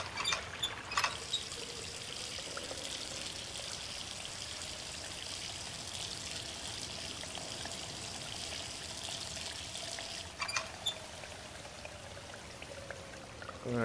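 Water pouring steadily in the Riven Remastered game, a sustained splashing stream with a couple of brief clattering accents near the start and later, running continuously without speech.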